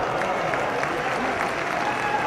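A large crowd at a political speech in Punjab claps steadily, dense sustained applause that fills the whole stretch at an even, loud level with no voice over it.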